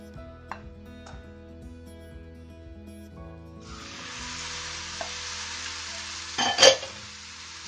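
Tomatoes added to a hot pan for tomato curry, a quiet start giving way to a sudden steady sizzle that holds to the end, with a brief louder burst of stirring near the close, no talking.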